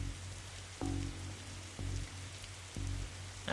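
Rain falling in the pixel-art video game The Darkside Detective, a soft steady hiss of raindrops on a surface, punctuated by four regularly spaced low thumping beats.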